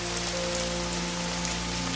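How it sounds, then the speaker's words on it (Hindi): Heavy rain falling in a village, a steady, dense hiss with no pauses, loud and close, with low steady tones beneath. "बाहर बहुत बारिश है, संभाल कर जाना।"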